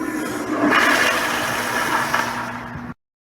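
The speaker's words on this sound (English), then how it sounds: "Be sure to flush and leave the stall." A toilet flushes in a restroom stall, a loud rushing swirl of water lasting about three seconds before cutting off abruptly.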